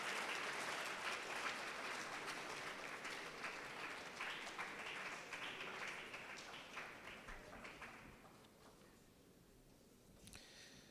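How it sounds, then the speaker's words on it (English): Steady audience applause for a speaker at a day-two conference session, a dense wash of many hands clapping that holds for several seconds, then thins and fades toward the end as a few claps trail off. "Please let's give him a round of applause as he comes up."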